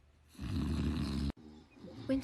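Loud, rasping snoring from a sleeping person in a prank clip, one long drawn-out snore that cuts off abruptly, followed by a softer rattling breath, close to the microphone.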